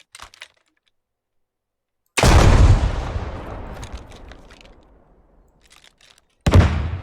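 An NLAW disposable rocket launcher firing in the video game Squad, one loud sudden blast that rolls off into a long fading rumble, then a second sharp burst right at the end after near silence.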